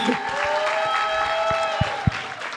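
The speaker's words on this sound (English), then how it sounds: "let's give Mr. Luke Lawal Jr. another round of applause" Applause from the audience at the opening plenary of the 2025 HBCU Making & Innovation Showcase, a steady mid-level patter of clapping that runs the whole time, with a couple of sharper single claps near the end.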